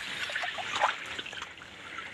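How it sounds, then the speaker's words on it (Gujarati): Borewell water runs into a castor field on a farm, a quiet, continuous trickle and gurgle heard close by with no talking over it. "તો અહીંયાથી પાણી જઈ રહ્યું છે ખેતરમાં જો એરંડાવાળું ખેતર છે આપણું બોરનું પાણી આવી રહ્યું છે"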